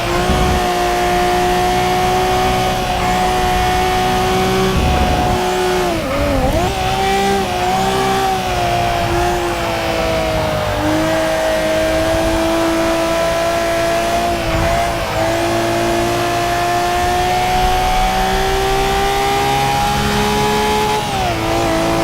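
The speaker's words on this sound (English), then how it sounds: "One of the nicest sounding cars, whenever them turbos spill up, the bullshit ends and the car gets going." Turbocharged Nissan R34 GTR engine in Forza Motorsport accelerating hard, loud and close, with steady rising revs through the gears, brief dips at shifts and occasional tire squeal, no talking.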